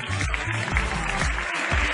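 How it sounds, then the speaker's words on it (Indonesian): Applause at a school prize-giving for a touch rugby tournament, a short burst of clapping from a gathered audience, fairly close and steady, with low rumbling room noise underneath. "Okey, tepuk-tepuk."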